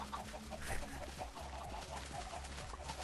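Chickens cluck in a Minecraft game, a soft, repeated clucking over a low, busy game background.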